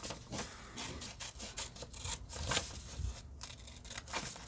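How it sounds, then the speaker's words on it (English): Scissors cutting along a straight line through a paper journal page, a run of close crisp snips and rustling paper crinkles in quick succession. "So where there's straight lines, I'll cut."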